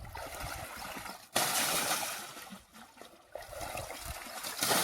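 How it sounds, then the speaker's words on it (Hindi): Water poured into a tractor on a farm during soybean spraying work, a continuous splashing trickle and gurgle with abrupt surges, close and fairly loud outdoors. "बस फिर थोड़ा सा पानी अपने ट्रैक्टर को भी पिला देते हैं।"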